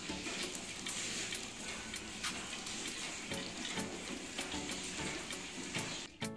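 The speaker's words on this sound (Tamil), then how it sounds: "இப்போ இந்த மாதிரி தண்ணி ஊற்றி மிக்ஸ் பண்ணக்கப்புறமா இதை வடிகட்டிக்கலாம்." Water poured into mashed noni fruit pulp and stirred by hand in a kitchen, a steady close wet sloshing and splashing with small clicks running throughout, then a brief drop near the end.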